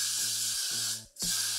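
Non-colored hairspray sprayed from an aerosol can in two loud, close bursts, a long hissing spray and then a shorter one after a brief pause.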